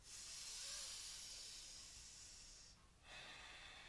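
A voice imitates Darth Vader's mechanical breathing with a long, hissing inhale, a short pause and then another hissing breath, close and fairly quiet.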